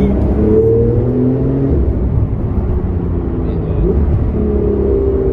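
Porsche 911 GTS engine revving nearby, a throaty rising and falling drone with several pulls over a few seconds, heard alone without voices.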